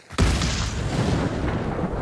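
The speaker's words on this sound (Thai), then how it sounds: "อ๋อระเบิดเพลิง" An incendiary bomb goes off in the shooter game Hunt: Showdown: a sudden loud burst after a short quiet moment, followed by a broad, roaring fiery rumble that stays strong to the end.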